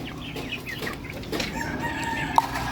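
Chickens clucking and a fighting rooster calling faintly amid backyard farm noise, with a short sharp click near the end.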